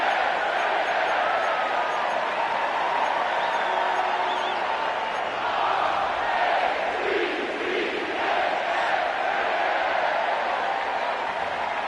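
Massive stadium crowd at M&T Bank Stadium in Baltimore, home of the Ravens, in the Madden football video game, roaring and cheering in a steady, dense wash with swelling whoops throughout.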